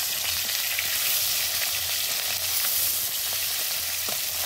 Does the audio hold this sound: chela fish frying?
yes